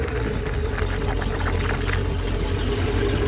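Inboard boat engine cranking and running during winterization, a steady low mechanical drone close by and held at even volume throughout.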